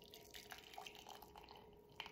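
Hot water is poured into a teacup, a soft, quiet, continuous trickle and splash with a few faint drips and no talking.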